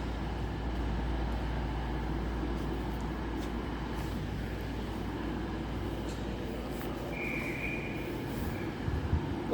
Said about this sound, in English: now departing will be the 1712 East Midlands Railway service to London St Pancras